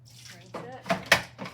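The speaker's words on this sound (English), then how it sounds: "pour out my wash basin" Water splashes and pours out of a wash basin in a few short bursts into a sink, close by and fairly quiet.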